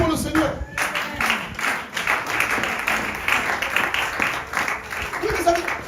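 A church congregation claps together steadily and applauds, a dense, continuous patter of many hands that fills the room, with voices carrying through the clapping.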